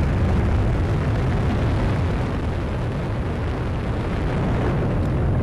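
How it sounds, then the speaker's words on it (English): Atlas V rocket with its RD-180 engine lifting off with the NRO L-38 reconnaissance payload, a loud, unbroken deep roar with heavy low rumble sustained steadily throughout. "The RD-180 engine roars to life."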